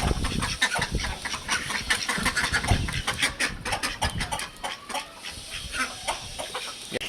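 Chickens cluck and squawk repeatedly nearby, a busy stream of short calls over background noise.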